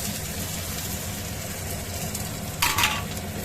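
Tomatoes frying in a pan with onion and green chilli, a constant close sizzle with a louder crackling burst late on as more goes into the pan.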